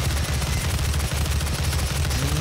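Rapid gunfire from the demon-slaying shooter game DOOM (reboot), a dense continuous barrage of loud shots with heavy low-end booms throughout, no voices over it.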